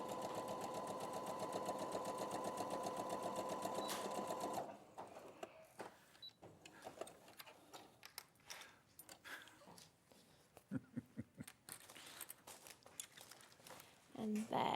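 Sewing machine stitching a seam, a fast steady mechanical whir running loud and close for several seconds, then stopping, followed by quiet handling clicks and rustles of fabric.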